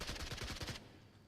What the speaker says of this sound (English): Like some gunfire coming out.